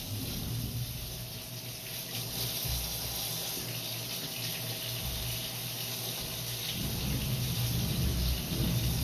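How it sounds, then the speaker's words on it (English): Water from a sink drains through a house drain line toward the city main, a steady continuous rushing and trickling flow heard up close with no talk. "Run some water through the line just to see it come on through."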